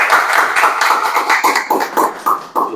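An audience at a digital health innovation pitch event claps for a presenter, a close, loud burst of hand claps that thins into separate, uneven claps over a few seconds.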